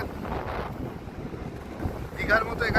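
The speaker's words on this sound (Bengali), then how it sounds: "প্রচণ্ড হাওয়া হচ্ছে" Strong wind blows on the open beach at Mandarmani, a loud continuous rumble buffeting the microphone, with surf faintly beneath and a brief voice near the end.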